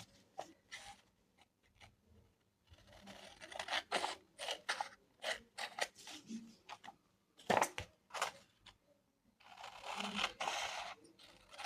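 Scissors snipping through squares of painted paper masterboard, a series of quiet, close, crisp cuts and rustles in irregular bursts, with no talking.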